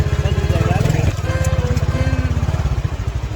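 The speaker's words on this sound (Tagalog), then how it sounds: "Pinasok ni Habi yung motor" Motorcycle engine chugging steadily at close range with a pulsing, uneven rhythm as it rides over rough, rocky ground, with a person talking briefly over the engine noise.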